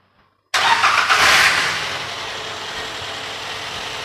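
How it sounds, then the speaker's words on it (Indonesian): A 2014 Daihatsu Granmax 1.3 pickup with a standard engine cranks and fires after a short silence, surging loudly for about a second before settling into a steady, smooth idle close to the microphone. "kita starter aja untuk dengerin suara mesinnya"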